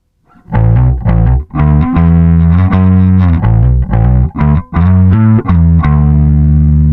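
Distorted bass notes played through a Darkglass Kaamos overdrive pedal in a gritty, overdriven riff, loud and sustained, with short gaps between phrases.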